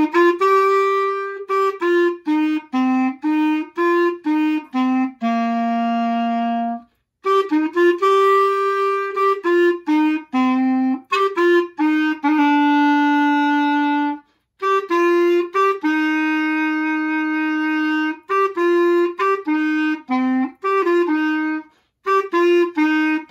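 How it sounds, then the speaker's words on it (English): A clarinet plays a melodic solo line of clear sustained and short notes, with brief pauses between phrases, close and alone. "A clarinet is a very, very important instrument in the band and it sounds like this."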